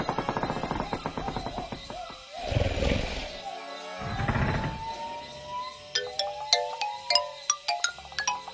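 A phone in the LEGO Jurassic World video game rings with a store jingle, a bright melodic run of repeated tones rising and falling, heard after a stretch of roaring, rumbling game action and chattering notes.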